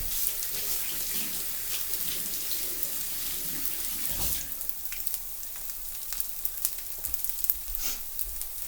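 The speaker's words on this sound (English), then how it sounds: "Wash my hands off." Tap water runs steadily into a kitchen sink as hands are rinsed after cooking, a continuous hiss and splash with brief clatters late on, close by and with no talk.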